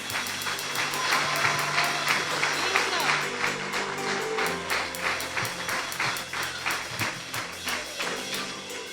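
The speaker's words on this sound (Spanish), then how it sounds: "hoy quiero que lo recibamos con un fuerte aplauso" Enthusiastic church congregation applauding to welcome Pastor Walter Ferro at a ninth-anniversary service, steady dense clapping throughout with rhythmic accents like music or beats underneath and voices mixed in.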